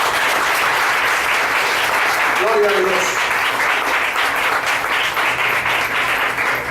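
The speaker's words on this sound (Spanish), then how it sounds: "Denle un aplauso al Señor en esta mañana." A church congregation applauds together in sustained, dense clapping that fills the room at close range, with a voice calling out briefly over the clapping.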